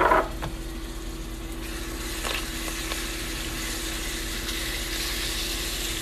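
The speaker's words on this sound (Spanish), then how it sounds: "Vamos a poner 3 dientes de ajo prensados." Three cloves of pressed garlic sizzle steadily in two tablespoons of hot olive oil, a continuous close frying hiss with a few soft stirring clicks and no voices.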